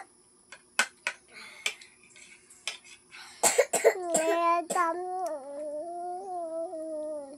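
Several short, sharp coughs come in quick bursts, followed by a voice speaking up close in a quiet room.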